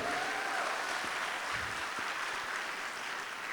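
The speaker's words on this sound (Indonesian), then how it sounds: "beri tepuk tangan yang paling meriah Bapak Ibu" Audience applause at an Indonesian sales seminar in a hall, a steady wash of clapping throughout, fairly quiet and distant, with no talk over it.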